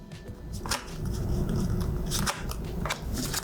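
A Pokemon TCG card deck being shuffled by hand, giving close, crisp riffling and snapping bursts in several quick rounds with brief pauses between them.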